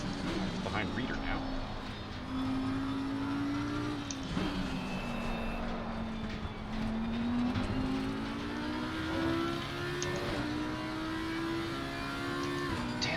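A race car engine in a racing sim game on the Nürburgring drones steadily at high throttle, its pitch rising and falling gently through gear changes, with a person talking over it throughout.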